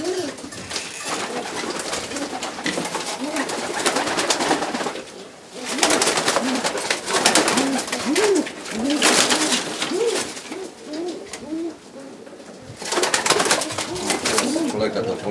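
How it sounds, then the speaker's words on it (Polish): Racing pigeons in a loft cooing close by, repeated rolling coos in overlapping bursts with short pauses, alongside wing rustles and shuffling over about fifteen seconds. "Teraz mam jeszcze samiczkę gołębia."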